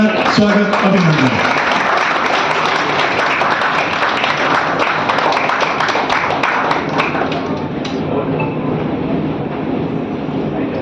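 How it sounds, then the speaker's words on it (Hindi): Loud, sustained clapping from a crowd at an Andaman and Nicobar tour operators' anniversary celebration fills the space, gradually thinning and fading toward the end. "जोरदार तालियां, स्वागत, अभिनंदन।"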